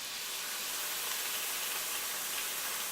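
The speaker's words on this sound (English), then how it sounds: "And it should sizzle pretty rapidly when you put this in." White wine hitting a hot pan of fennel gives a steady, close, loud sizzling hiss that holds evenly throughout, with no talking.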